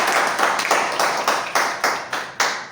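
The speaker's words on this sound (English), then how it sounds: "Let us give a big round of applause." Audience at a public speaking club meeting in Gujarat clapping together for a senior club. The claps are loud and close, falling in a slow, steady rhythm of about nine distinct beats.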